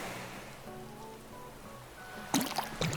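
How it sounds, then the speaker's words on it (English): Rain falling on an Animal Crossing island, a soft steady patter with a thin musical game tone running beneath it and a brief louder splash of effects near the end. "it's raining again"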